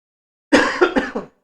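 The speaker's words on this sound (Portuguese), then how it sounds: "Perdão, estou com a tosse." A short burst of coughing, three or four quick hacks close to the microphone, followed by silence.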